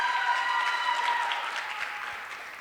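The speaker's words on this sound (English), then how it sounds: "give another round of applause for Sai and Shreya." Audience at a school multicultural show claps, a short burst of applause that swells briefly and then tapers off, with no talk over it.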